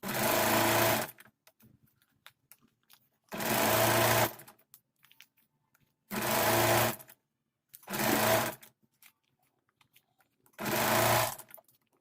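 A sewing machine stitches a 2-inch strip onto a plazo, running in five loud, close bursts of about one second each, separated by near-silent pauses.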